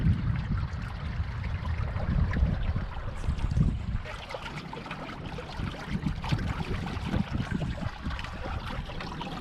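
A motorized Hobie Cat sailboat with a reefed sail cruises along, giving a steady, close rush and slosh of water against the hulls with low rumbling underneath throughout.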